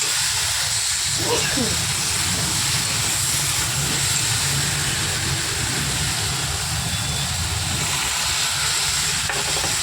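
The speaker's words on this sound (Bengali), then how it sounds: "সব সবজি মোটামুটি ভাজা হয়ে গেছে এবারে আমি পরিমাণ মতন এখানে জল দেবো" Vegetables frying in a pan for a green-mango fish curry, then water poured in: a loud, steady hiss and sizzle of steam fills the whole stretch, with faint stirring and a voice under it.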